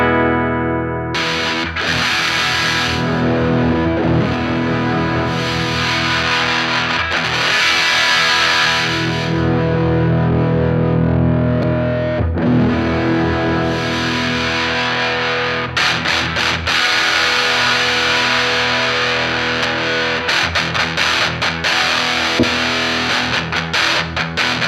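Electric guitar driven through a Boss DS-1 distortion pedal with a scooped tone, loud sustained crunchy chords and riffs played continuously up close, with brief choppy palm-muted stabs near the end.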